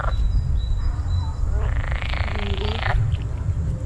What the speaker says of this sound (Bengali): ব্যাঙ কোথায় ডাকছে?